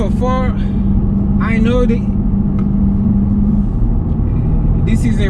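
Cabin sound of a 2019 Lexus IS300 F-Sport four-cylinder on a test drive: a steady, loud low engine and road drone runs throughout while someone talks briefly over it.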